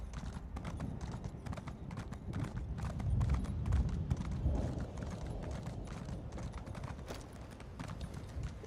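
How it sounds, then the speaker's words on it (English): Steady horse hooves clip-clop in the Elder Scrolls Online game as a mount is ridden, a continuous even rhythm at moderate loudness over a faint background for the whole stretch. "every time I ride somewhere on this horse"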